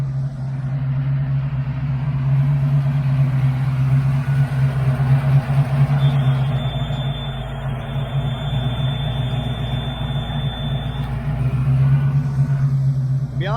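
Ford Mustang Foxbody engine idling with the idle air control unplugged, a steady low rumbling idle with a faint whine running through it, close and even for the whole stretch.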